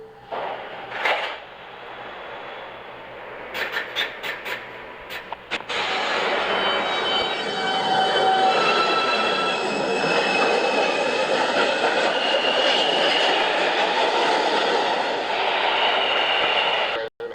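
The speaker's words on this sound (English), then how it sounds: "Train approaching the station." A New York City subway shuttle train from 1997 pulls into the station, rising from clicks and rattles into a loud, sustained rumble of wheels and cars with a brief squeal, close by and without talk.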